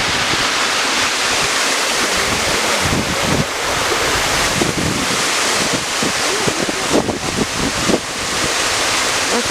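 Water from a waterfall rushes and roars loudly and continuously, a dense broadband wash close by with gusty buffeting against the microphone and no voices.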